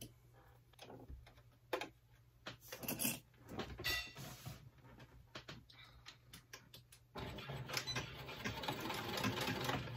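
A sewing machine stitches the seam of a lined stand-up zipper pouch in quiet bursts of rapid ticking. After a pause the machine runs into a louder, steadier hum.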